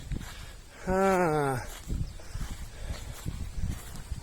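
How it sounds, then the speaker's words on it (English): A free-roaming cow on a tropical fruit farm in Malacca, Malaysia, gives one loud, close moo, followed by footsteps and rustling in vegetation. "They also do have free roaming cattle."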